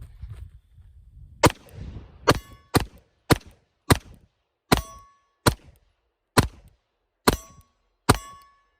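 Pistol shots fired on a shooting range with an affordable red dot sight mounted, about ten sharp cracks in a steady rhythm, loud and close, after a brief low rumble.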